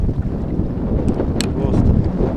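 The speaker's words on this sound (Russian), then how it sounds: "Ветер сильнейший." Strong storm wind on a lake during pike fishing from a boat, a loud, constant roar and buffeting against the microphone with waves slapping nearby.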